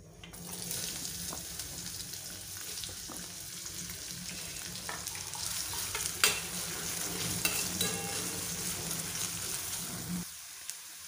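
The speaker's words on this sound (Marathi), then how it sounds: "जिरे तडतडले की त्यामध्ये कांदा टाकूया।" Chopped onion sizzles in hot oil with crackling cumin seeds in a kadai, a close, continuous frying hiss with occasional stirring scrapes that quiets near the end.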